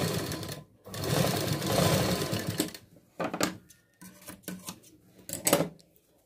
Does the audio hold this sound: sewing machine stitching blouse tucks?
yes